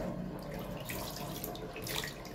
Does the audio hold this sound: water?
yes